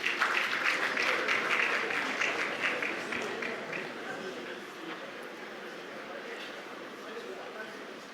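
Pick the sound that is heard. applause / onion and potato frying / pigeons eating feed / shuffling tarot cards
applause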